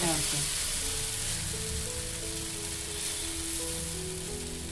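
Batter mixture sizzles steadily in a pan over a low flame. The frying hiss is continuous and close, easing slightly over a few seconds.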